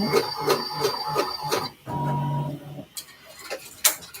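Embroidery machine stitching out an in-the-hoop bib, with a steady rapid ticking of the needle, a brief humming tonal stretch, then sparser clicks and taps near the end.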